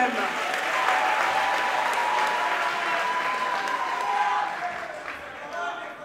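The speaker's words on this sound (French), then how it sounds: "Applaudissez très fort pour vous-même." Loud, sustained applause from a large crowd at a political opposition convention, steady dense clapping with crowd noise that holds for several seconds, then thins toward the end.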